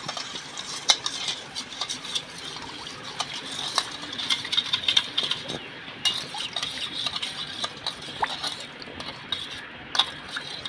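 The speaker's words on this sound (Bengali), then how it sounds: "ভালো করে এটা গুলে নেব, একটু বেশিক্ষণ সময় ধরে গুলতে হবে যাতে চিনিটা গলে যায়।" A spoon stirs an orange ice cream mixture to dissolve sugar, giving a steady close scraping and swishing with light clinks against the bowl, continuing alone without talk.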